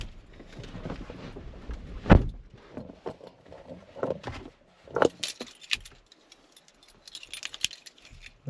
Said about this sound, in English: The switchblade key.